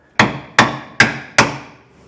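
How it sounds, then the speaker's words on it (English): A hammer strikes a bolt from inside a trailer crossmember four times at an even pace, each blow a sharp, close metallic hit with a short ringing decay. "then I'll start hammering on it from the inside so we can pop that bolt out."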